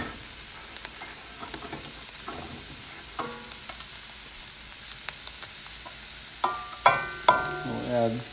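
Rice tipped into a hot pan of fat for house special fried rice, with a scrape or two of stirring and then a rising, close sizzle and spatula clatter toward the end, no talking.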